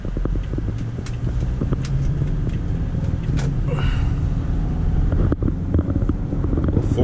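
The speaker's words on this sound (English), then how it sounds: "four cylinder has pretty good power. Of course, it transmission shifts as fast as it can to sixth gear." A Toyota Camry LE with a 2.5L four-cylinder engine and a six-speed automatic accelerates, giving a loud, steady engine drone and road rumble heard from inside the cabin, with brief dips as the gears shift.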